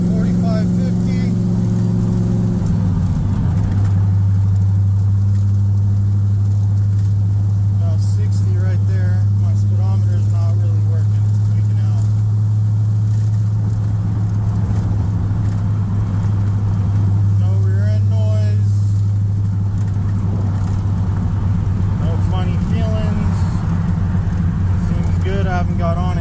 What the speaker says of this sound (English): Test drive is going good so far. Cruising 45, 50.